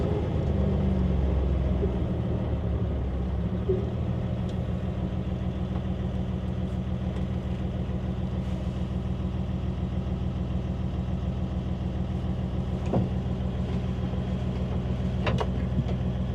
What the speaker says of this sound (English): Still a good sounding motor, just burns a lot cleaner.